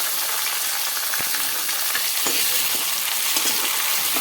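Finely chopped tomato goes into a pan of frying garlic, giving a loud, dense sizzle with a few sharp scraping stirs and no voices.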